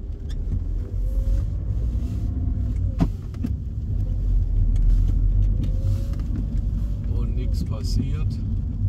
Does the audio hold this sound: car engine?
yes